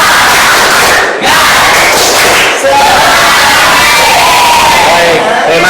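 A school class bursts into loud, energetic group shouting with sharp rhythmic claps in a short cheer, several sudden bursts close together filling the room.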